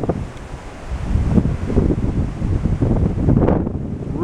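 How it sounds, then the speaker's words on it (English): Strong wind roars across an open cruise ship deck at sea, buffeting loudly and steadily, with a low rush of whitecapped waves beneath. "Really windy."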